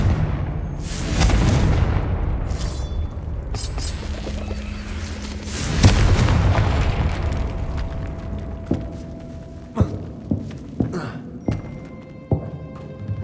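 Booming blasts from the Confringo blasting spell in Hogwarts Legacy: heavy rumbling explosions early on, then a series of sharp, spaced thuds, with a voice speaking.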